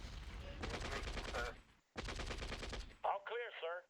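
Machine gunners attacking in the Shadow Empire strategy game: two bursts of rapid automatic gunfire, each lasting about a second or more, separated by a short silence, followed by a brief spoken voice line.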